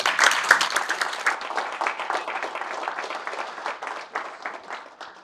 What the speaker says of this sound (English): Can you give Herb a round of applause